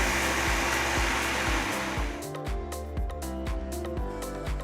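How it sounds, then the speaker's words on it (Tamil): A mixer grinder whirs loudly grinding soaked rice with water into batter, with a steady motor drone and a coarse grinding rush that eases partway through, leaving a pulsing mechanical hum. "கொஞ்சம் தண்ணி ஊற்றி நல்லா ஸ்மூத்தான மாவா அரைச்சி எடுத்துக்கலாம்."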